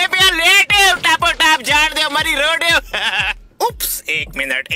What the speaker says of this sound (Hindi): एक बेबी बकरी